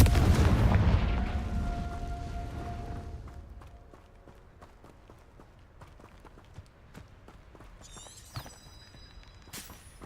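A Confringo blasting spell detonates in Hogwarts Legacy with a loud, booming blast that rolls away over a few seconds, followed by quieter footsteps and light clattering sounds.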